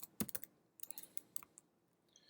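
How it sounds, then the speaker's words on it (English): Quiet typing on a computer keyboard: two quick bursts of close, crisp key clicks with a short pause between them. "You can start typing in"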